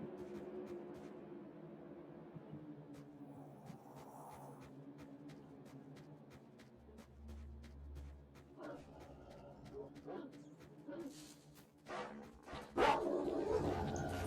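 Dogs bark in the game S.T.A.L.K.E.R., a scatter of short yips and barks at middle distance under a person talking throughout, growing louder and denser toward the end.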